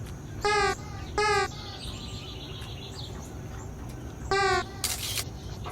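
A crow caws in the Casual Birder video game, three loud, harsh, separate calls close by, followed by a camera shutter click over faint ambient background.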